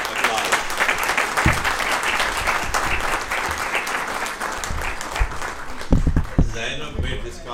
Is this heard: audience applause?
yes